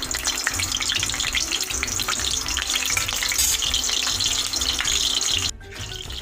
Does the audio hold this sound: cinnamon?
yes